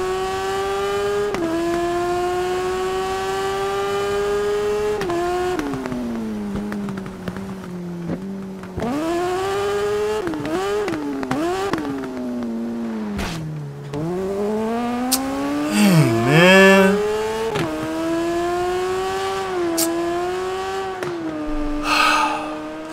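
Motorcycle engine in the TT Isle of Man road racing video game, revving steadily and rising and falling in pitch through gear changes for over twenty seconds, with brief dips and a sharp squealing swoop midway.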